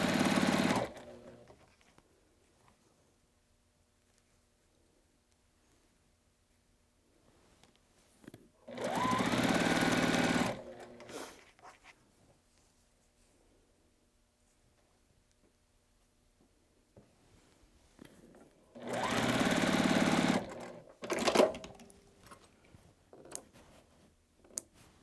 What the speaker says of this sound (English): Make sure you sew the short side and not that long diagonal.